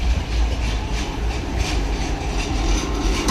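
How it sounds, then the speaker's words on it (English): A tram pulls in to a stop on a Sofia, Bulgaria street, its steady low rumble and rail noise filling the scene, with passing traffic mixed in and no talk. "Here comes the tram."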